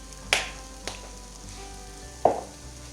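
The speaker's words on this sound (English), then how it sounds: "We are going to saute these until the vegetables have softened." Vegetables for fried rice sauté in a pan with a faint continuous sizzle, broken by a few sharp clatters from stirring or tossing.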